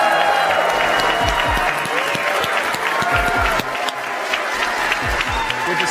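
A large crowd at a tech company presentation applauds steadily and loudly as AMD's CEO is welcomed on stage, with some cheering mixed into the dense clapping throughout.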